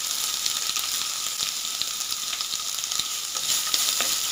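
Crushed garlic and green chili sizzle in a pan with spinach soup ingredients, a loud continuous frying hiss with scattered stirring clicks, close and unbroken, with no voices.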